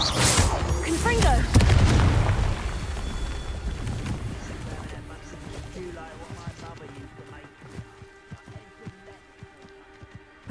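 A Confringo blasting spell explosion in the video game Hogwarts Legacy lands as a loud boom early on, then rumbles and fades into clattering game sounds and scattered impacts.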